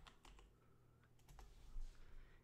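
A computer keyboard being typed on in a few quick, light keystrokes close by, faint and without any talking.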